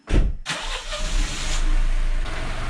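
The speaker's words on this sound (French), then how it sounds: "on va laisser chauffer un petit peu la voiture pour fluidifier l'huile" An Alfa Romeo MiTo TwinAir engine cranks briefly, catches and starts, then settles into a steady, rumbling idle close by, warming up the oil.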